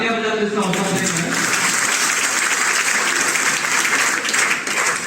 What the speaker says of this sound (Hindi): एक बार आप तालियां बजा के इसका हौसला दें